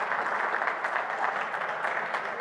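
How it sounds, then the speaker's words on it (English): Audience applause at a business aviation conference in Miami following an introduction, a steady dense wash of clapping from many hands that holds evenly throughout, with no voices. "So how about a big round of applause for Alex and Corporate Jet, please."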